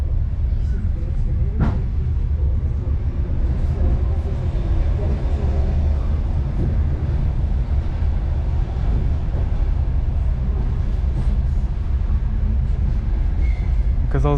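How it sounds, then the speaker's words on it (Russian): Steady low rumble and broadband roar inside a one-car diesel train hauled by a 2TE10U locomotive on the Samara–Buzuluk line, running continuously at even loudness with faint rattles on top. "Он задымил тепловоз."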